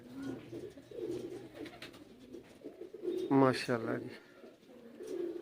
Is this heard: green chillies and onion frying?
no